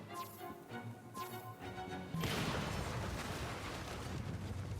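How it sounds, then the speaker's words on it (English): A broad, loud explosion blast in the game Assassin's Creed Syndicate bursts in suddenly and then rolls on as a sustained rumbling roar, after a quieter stretch of game ambience. "slowly walking away from an explosion"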